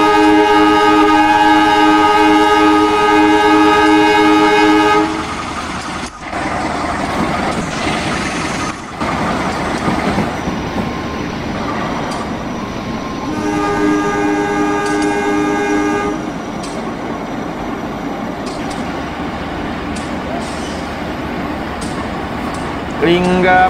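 An Indonesian passenger train on the Jayakarta service passes at night, sounding a long multi-tone horn twice with steady rumble and wheel noise between the blasts, as people talk nearby.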